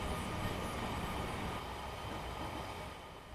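Steady rumbling drone of a Class 700 electric train running in Train Simulator Classic, a continuous wash of rolling rail noise with no breaks, moderately loud and alone without any voices.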